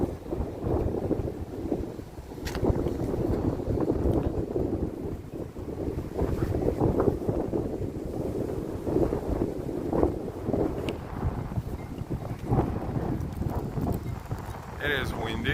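Wind at Manhattan Beach in Brooklyn buffets the microphone in a constant low rumble with gusty swells, while a person talks throughout over it.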